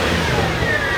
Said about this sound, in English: Give it a few light revs.